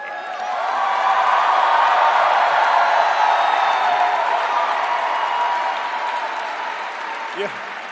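Applause from a large crowd at a Bernie Sanders 2020 presidential campaign launch rally in Chicago, a dense, sustained wash of clapping that swells in and holds steady for several seconds, with scattered cheers.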